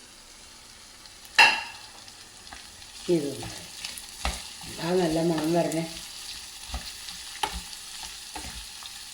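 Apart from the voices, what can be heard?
carrots being sautéed in sesame oil for pickle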